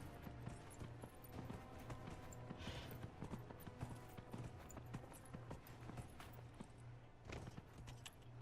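Rapid rhythmic clip-clop of horse hooves galloping in the video game Dragon Age: Inquisition, steady and close, over a low droning background hum.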